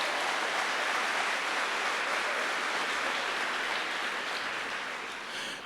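A church congregation at a youth camp applauding, a dense steady wash of many hands clapping that fills the room and tapers slightly at the end, with no speech over it.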